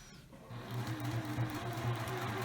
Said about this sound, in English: I'm going to back stitch to secure, and I'm done sewing.